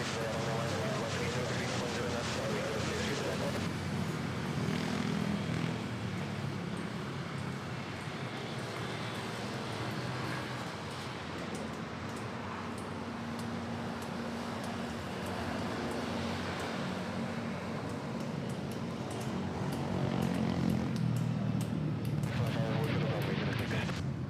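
Jet airliner engines at Manila Airport as a plane heads off to Kuala Lumpur: a continuous broad roar that holds steady and swells louder near the end, with some talk mixed in.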